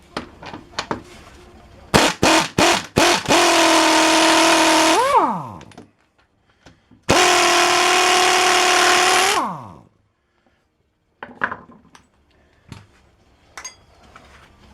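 An impact wrench removes the lower control arm bolt on a Polaris Sportsman ATV during bushing replacement. A few sharp taps come first, then two loud, sustained rattling bursts, each winding down in pitch as it stops, with quiet between them.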